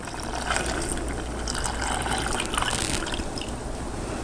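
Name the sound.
pouring milk into a pan for sausage gravy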